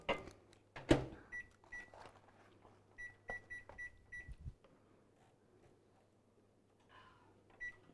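A microwave oven heats a milk-based mousse mixture at 650 watts, a steady low hum running throughout while several short electronic beeps sound in quick bursts, with a few clatters early on.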